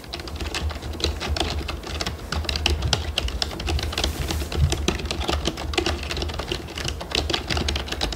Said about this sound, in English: I'm just gonna be typing.